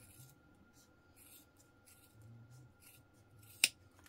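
Scissors trimming fabric while sewing a crossbody bag, heard as one sharp, close snip near the end of a quiet stretch, with soft handling rustles beforehand.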